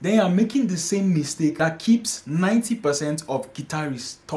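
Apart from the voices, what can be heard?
No everyday noise stands out behind the speech.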